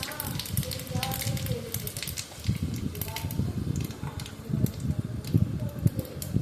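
Panch phoron and dried chilli sizzle in hot oil for a Bengali mango dish, a soft continuous crackle with small pops, fairly faint and close, while a person talks over it.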